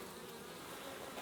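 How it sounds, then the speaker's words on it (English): Honeybees buzz steadily around an open hive during an inspection, a dense, even drone close by that fills the moment, with no talking. "the bees in this one are just unbelievably calm"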